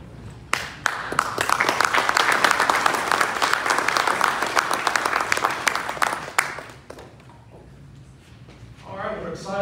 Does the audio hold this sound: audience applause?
yes